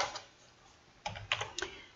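Keystrokes on a computer keyboard while entering SPSS syntax: a short burst of several close, crisp clicks after a quiet pause, no talking.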